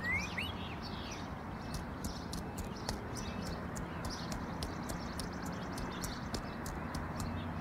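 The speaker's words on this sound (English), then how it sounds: "That sure looks like Miss Davis's horse with him." Hooves of a horse clip-clop in a steady, even rhythm at moderate distance in a video game, with birds chirping in the background and a faint ambient hum.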